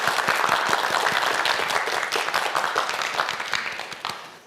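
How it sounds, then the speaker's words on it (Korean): A studio audience on a televised science quiz show breaks into brisk, dense clapping that holds steady for a few seconds and then tapers off. "박수 한번 부탁드릴게요"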